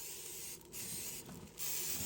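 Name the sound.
spraying cooking oil on barbecue grill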